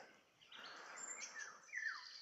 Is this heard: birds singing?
yes